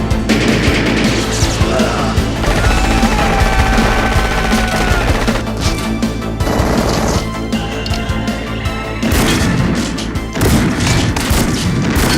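Dense gunfire and explosions from 1980s action movie scenes, loud continuous bursts, booms and crashes layered over music with no pauses.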